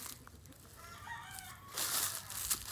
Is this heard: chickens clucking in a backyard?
yes